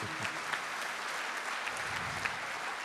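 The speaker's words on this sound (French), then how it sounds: "je crois qu'on peut vous encourager par des applaudissements" Audience applause at a business awards ceremony, a dense, steady clapping from a crowd filling the room without a break.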